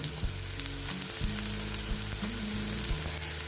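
Tilapia pieces fry in hot oil after a sprinkle of salt for a mustard tilapia jhal, giving a steady, close crackling sizzle with a few stirring knocks throughout and no voices.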